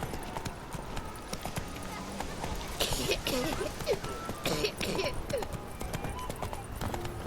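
Hooves of Roach, a horse in The Witcher 3 video game, galloping in a steady clip-clop rhythm, close and fairly loud, while someone talks over it.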